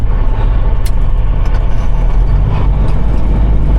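A big truck passes a flatbed rig on the road, with heavy low engine and road rumble filling the whole stretch at high volume.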